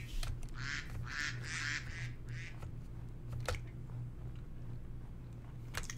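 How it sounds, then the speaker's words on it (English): Ducks quack in the woods, a cluster of several nasal calls at the start followed by quieter outdoor ambience. "I see more duckies."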